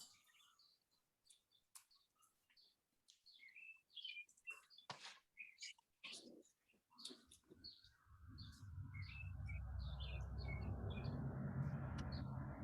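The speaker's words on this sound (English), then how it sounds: "I'm hearing some beautiful birds." Scattered high chirps and tweets from birds ring out intermittently, later joined by a steady low rumbling hum beneath them.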